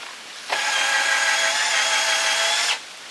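A power drill whirs at a steady high pitch for about two seconds, starting and stopping abruptly, close and loud, used with a lift treestand.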